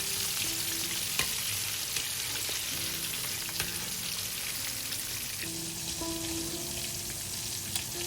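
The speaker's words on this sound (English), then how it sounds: "Then flash fry the vegetables for about 5 seconds." Vegetables flash-fry in slightly cooled hot oil for a sweet and sour pineapple pork dish, giving a steady, dense sizzle with faint scrapes and clinks throughout, and no one speaks.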